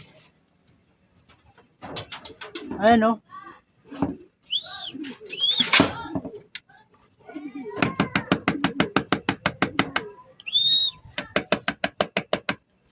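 Racing pigeons back from a 90 km training flight coo and flutter near a loft, with rapid wing claps in bursts between calls, while someone speaks briefly over them.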